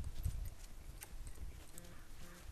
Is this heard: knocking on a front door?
no